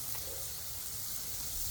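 A smash burger with melting cheese sizzles on a Blackstone flat-top griddle, giving a steady, close, even frying hiss that holds throughout with no talk.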